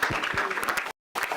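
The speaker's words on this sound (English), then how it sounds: "So we thank Professor Hariharan by clapping." A university lecture audience claps after a mathematics talk, a dense burst of applause that breaks off briefly before resuming.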